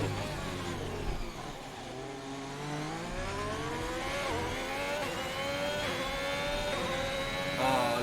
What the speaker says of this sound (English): It sounds so perfect, the way an engine should sound.